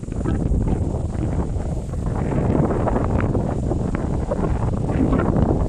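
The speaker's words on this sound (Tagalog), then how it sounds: "Lakas ng hangin" Strong wind blows outdoors on a rural trail near grazing cattle, buffeting the microphone in a continuous, loud, rumbling roar that surges and eases without letup.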